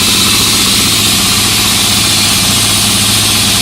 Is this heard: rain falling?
no